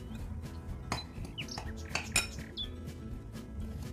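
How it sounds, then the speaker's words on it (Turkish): Crushed cocoa biscuits being mixed with melted butter in a bowl, with a utensil scraping and clinking against the dish in irregular, close strokes, without any talking. "Tereyağıyla bisküvilerimi bakın böyle iyice karıştırdım."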